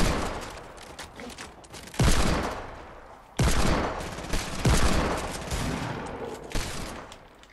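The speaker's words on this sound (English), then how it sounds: "I'm hitting so many shots, dude." Gunfire in Fortnite, loud close bursts of rapid shots in a few sustained volleys, with brief pauses between them.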